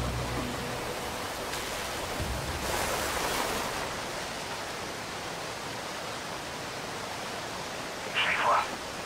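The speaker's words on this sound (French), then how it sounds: "On peut se cacher derrière cette cascade." Steady broadband rush of a waterfall in the video game Call of Duty Ghosts, a constant even wash filling the whole clip, with a brief brighter burst near the end.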